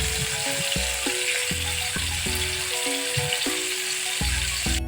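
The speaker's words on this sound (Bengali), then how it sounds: "এভাবে টাকি মাছটাকে একটু ভেজে নিব, একটু সময় নিয়ে একটু ভাজবো।" Taki fish frying in a pan, a steady close crackling sizzle that runs the whole time, with soft low tones humming underneath.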